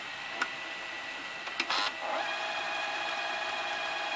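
Sanyo VHR-2900 VCR in reverse search mode, giving a steady mechanical whir with a high whine, preceded by a few brief clicks and a short burst as the transport shifts, close and fairly quiet.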